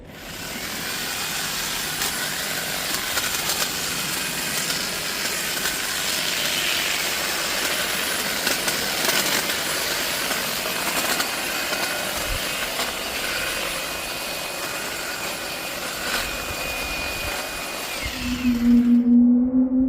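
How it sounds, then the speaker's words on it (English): An airplane braking overhead makes a loud, sustained broadband roar that holds steady for about twenty seconds, then fades, with a low hum rising at the very end. "I think that plane were putting its brakes on then."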